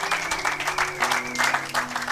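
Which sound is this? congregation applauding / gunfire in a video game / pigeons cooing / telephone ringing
congregation applauding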